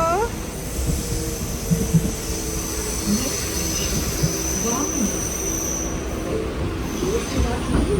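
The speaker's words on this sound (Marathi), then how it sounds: "ट्रेन आली असं." A train arriving at an amusement park station, its wheels squealing in long high whines over a rumbling rail roar, with voices talking faintly in the background.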